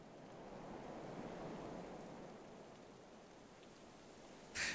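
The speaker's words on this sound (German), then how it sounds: "Hagelsturm." Hailstorm in the video game Going Medieval, a soft, even hiss of pelting ice and rain that stays faint and steady throughout, ending in a brief sharp rattle.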